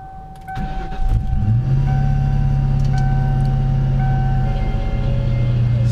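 A supercharged 1997 Ford Mustang GT with an aftermarket Tremec transmission cranks briefly and fires up, then settles into a loud, steady idle with a whining tone running throughout.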